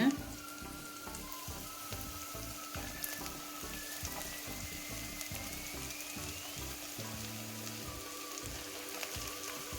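Green amaranth stems and leaves fry in a pan, giving a steady, even sizzle with faint crackling throughout, close and moderately quiet, with no talking.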